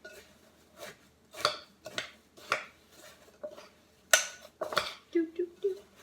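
Dried chow mein noodles being stirred into a melted mixture in a bowl for Easter bird's nest treats: a series of separate scraping and clinking spoon strokes against the bowl with quiet gaps between them.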